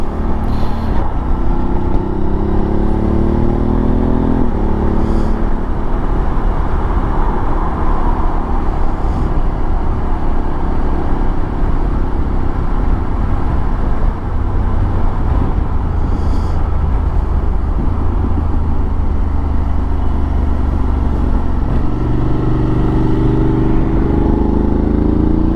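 Car engine pulling hard through 4th, 5th and 6th gear, a loud continuous drone with rising pitch sweeps broken by brief shift dips, heavy road and wind rumble throughout.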